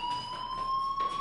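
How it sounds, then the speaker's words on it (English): Fire alarm in the video game Life is Strange, a steady electronic tone with overtones ringing continuously and fairly loud, pulsing slightly in level. "do you hear that fire alarm? That means you should be outside."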